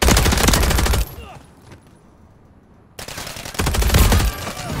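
AMR-9 gunfire in a video game, loud dense automatic bursts that stop for about two seconds of quieter game sound and then resume at close range.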